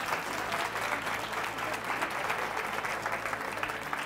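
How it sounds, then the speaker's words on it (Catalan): A studio audience claps for a school team of quiz contestants on a local television quiz show, continuous moderate applause across the whole stretch with no speech over it. "També un aplaudiment molt fort per elles."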